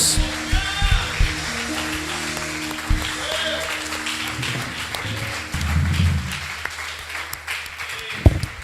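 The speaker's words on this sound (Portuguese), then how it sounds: "Aplauda o Senhor o mais forte que você pode," Church congregation applauding during a worship service, a moderate wash of clapping with voices and sustained music tones underneath, ending in a sharp louder hit.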